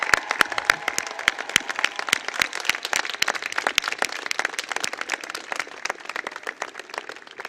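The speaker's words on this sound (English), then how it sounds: "Give them a round of applause." Audience applause at a university commencement ceremony: many hands clapping in a dense, crisp patter that holds steady throughout, with no talk over it.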